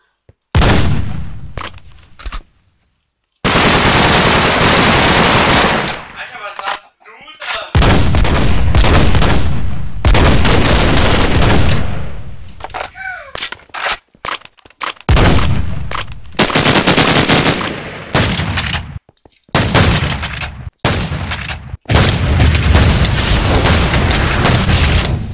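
Rapid, loud bursts of automatic gunfire and booming shots from Minecraft Flans Mod weapons, in dense volleys broken by brief silences throughout.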